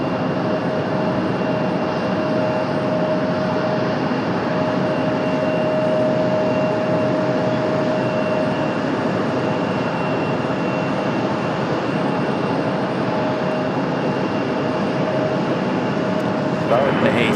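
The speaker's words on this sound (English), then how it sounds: "The A319 for American on the move." An American Airlines Airbus A319 bound for Miami moves along at Raleigh-Durham International, a steady broadband engine roar with a faint whine holding throughout at moderate distance.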